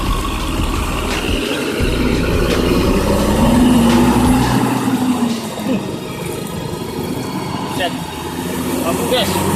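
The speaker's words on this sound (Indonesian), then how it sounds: "Raungan mesinnya, guys, luar biasa" Mercedes-Benz engine of an ALS intercity bus roaring at night, a loud, deep, rumbling drone close by, swelling midway and then settling to a steadier idle with background noise.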